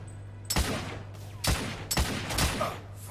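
Rifle fire in The Order: 1886, four heavy booming shots spaced about half a second to a second apart, loud and close, each with a long ringing tail, over a low steady hum.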